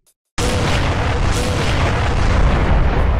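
Shotgun fire in the game Doom: after a brief silence, a loud, dense blast breaks in and sustains as a roaring, boomy wash of game noise to the end, close and heavy.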